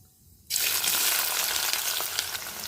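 Onions hit hot oil with fried cumin for a fenugreek-tomato curry, a sudden loud hiss that erupts after a brief quiet start and keeps sizzling strongly.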